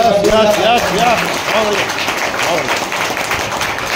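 An audience at a Jabalpur event applauds guests being welcomed on stage, a steady wash of clapping that runs throughout while a voice speaks over it.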